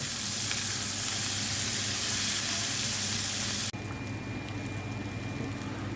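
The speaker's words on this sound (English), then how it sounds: "We saute our Trinity mix until it's just tender." Celery, onions and peppers saute in a hot pan, a steady close sizzle and hiss that drops abruptly to a quieter sizzle near the end, with no talking.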